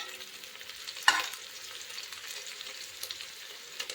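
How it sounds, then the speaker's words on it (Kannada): Onions sizzle in ghee for a vegetable pulao, a steady close frying hiss with a sharp scrape of stirring near the start and occasional small spatters. "ನಾನು ಇದನ್ನು ಮೀಡಿಯಮ್ಮಾಗಿ ಫ್ರೈ ಮಾಡ್ಕೊತೀನಿ"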